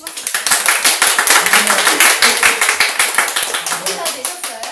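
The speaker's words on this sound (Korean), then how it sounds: "큰 박수" A crowd claps steadily and fairly loudly, a dense stream of hand claps that slowly tapers toward the end.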